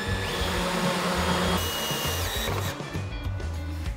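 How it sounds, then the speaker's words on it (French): Power tool with a 13 mm socket driving lag screws, a loud close whirring drone with brief pauses and pitch changes as the screws seat. "Fixe les tire-fonds via les trous que tu viens de percer. Pour cela, tu peux utiliser une douille de 13."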